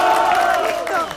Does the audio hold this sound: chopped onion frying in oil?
no